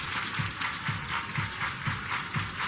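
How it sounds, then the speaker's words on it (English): At a pro softball game, a crowd claps in unison to a steady, even beat, each clap sounding as a broad, bright burst. "Everybody clap your hands."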